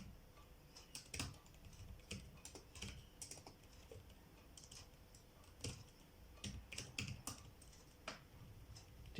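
Keys clatter on a computer keyboard as a city name is entered in an office quotation form, with irregular bursts of close, crisp clicks and short pauses and no voices.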